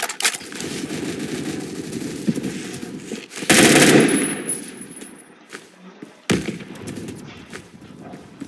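Rapid automatic gunfire from the online shooter game Phantom Forces, a dense sustained burst followed by a sharp loud blast and a later crack, fading between shots, with no talk over it.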